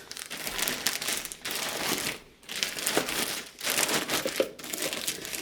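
Plastic bags of cleaning supplies being packed up, crinkling and rustling loudly in continuous bursts with a couple of brief pauses, close by and with no talk.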